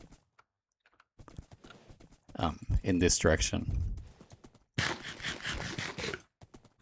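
Video game horses clip-clop in a taiga biome, a brief burst of quick hoof beats following a stretch of speech from a nearby voice.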